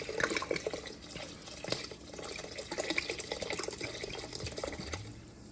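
Wine poured from a bottle into a pot of beef bourguignon, a steady gurgling splash with small drips, close and fairly quiet, with no talking.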